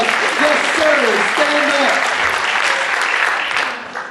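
Enthusiastic audience applause with a voice talking over it, fading away toward the end.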